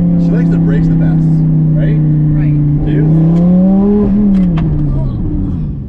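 Lamborghini supercar on a drive, its engine droning steadily close by with a slight rise in pitch as it revs, while people talk over it.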